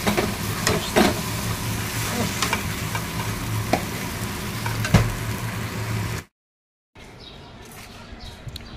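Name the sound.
pointed gourd frying with shrimp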